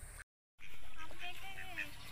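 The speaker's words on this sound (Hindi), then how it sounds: "और यहाँ देखिए बत्तख दिखाई दे रहा होगा आपको" Ducks in a village garden give a few nasal quacks at close range, following a brief dropout, with faint background noise.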